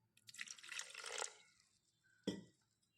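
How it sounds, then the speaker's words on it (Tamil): Water is poured into idli batter mixed with ground leftover rice, a soft splashing trickle for about a second, then one brief wet splash, faint and close in a quiet kitchen. "கொஞ்சம் தண்ணி ஊற்றிக்கலாம்"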